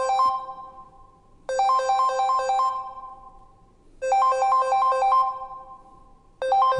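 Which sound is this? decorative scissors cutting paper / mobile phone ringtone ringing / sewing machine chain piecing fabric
mobile phone ringtone ringing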